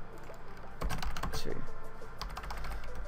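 Fast, uneven clatter of keys on a computer keyboard, close and fairly quiet, with a faint voice underneath.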